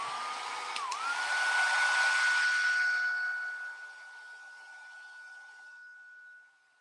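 A handheld dryer blows steadily up close over Distress spray ink, a loud airy rush with a thin whine that eases and fades before cutting off.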